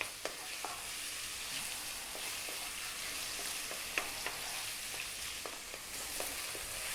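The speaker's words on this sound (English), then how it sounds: "got some oil in there using a sunflower oil. Getting that hot, we're going to drop in our onion." Onions sizzle and fry in hot sunflower oil over high heat, a steady dense crackle with scattered sharp pops and occasional stirring, close and alone without any voices.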